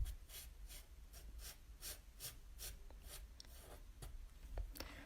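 A pencil scratches across paper in quick repeated strokes, sketching spiky scales on a bearded dragon; soft, close, rhythmic rasping bursts with short pauses, no talking.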